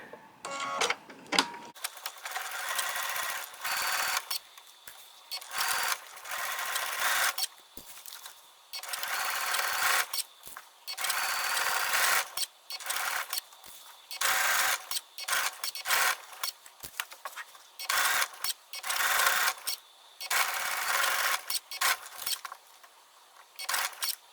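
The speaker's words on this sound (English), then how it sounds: "you're going to stitch the patchwork strip to the towel using a 1/4 inch seam" A sewing machine stitches a patchwork strip onto a towel with a 1/4 inch seam, running in close, bursty mechanical runs broken by brief pauses, with no talking.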